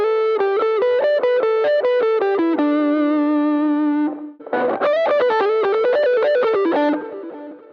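Slow electric guitar pentatonic lick, distorted with effects: a run of clear picked notes, a held bend, then a second flurry of notes that fades out at the end, played alone and up close.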